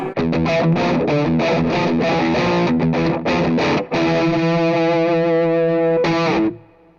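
Heavily distorted electric guitar through a 3rd Power Kitchen Sink 6VEL tube amp chugs through palm-muted riffs, then rings out on a sustained chord that fades away. Loud and thick, no voices.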